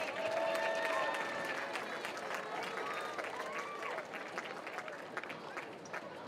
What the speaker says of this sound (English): Let's give a big hand to all of our football seniors.